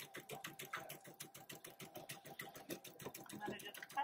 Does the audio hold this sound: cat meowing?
no